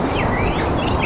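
A bird calling on a mountainside, thin rising and falling chirps drifting over a loud, rough outdoor background of wind and rustle.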